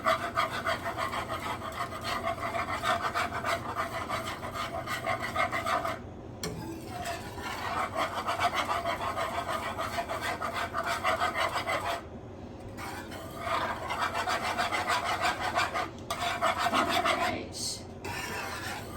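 Ten eggs with cheese and onion are stirred in a pan, giving a continuous scraping, rasping utensil sound with a few brief pauses.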